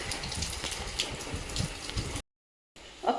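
Rain pours onto a house rooftop during the July monsoon, a dense close hiss of splashing drops that cuts out for a moment near the end before resuming.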